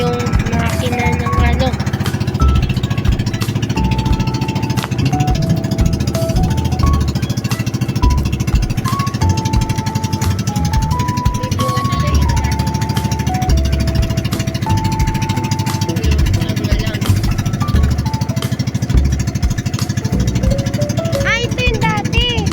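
A loud, noisy boat engine drones and clatters without a break, close by, with tonal whines and bursts of chatter riding over the rough, steady roar near Dinagat Island.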